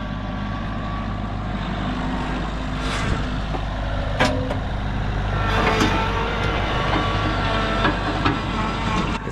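A tractor pulls a box blade across very hard, compacted homestead garden soil, its engine droning loudly and continuously with occasional scraping clanks and knocks rising above the rumble.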